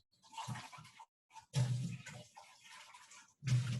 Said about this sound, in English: Okay, we rinsed it out.